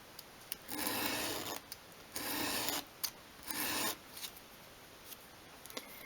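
Wood end is rubbed round with a rasp or abrasive in three close, scratchy strokes, each about a second long, then a few light taps and scrapes.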